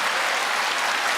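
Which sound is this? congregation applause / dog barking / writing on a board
congregation applause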